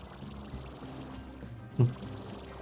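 Irrigation water pours steadily in the farming game Slime Rancher, a low, faint wash that swells briefly into a louder gush near the end.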